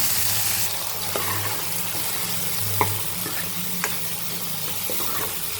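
Masala sizzles and fries steadily in a pan for a village-style egg curry, a continuous hiss with a few soft clinks of stirring, heard close and alone.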